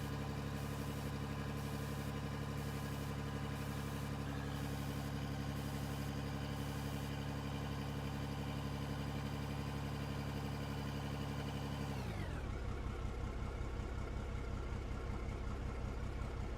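A continuous, even truck engine hum in the video game Out of Ore drones steadily, then drops sharply in pitch and settles into a lower rumbling idle; no talking.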